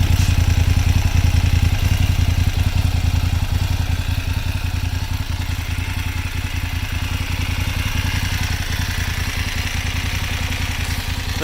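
A BMW F 850GS Sport motorcycle engine runs steadily close by, a loud, even pulsing drone that holds throughout with no voices.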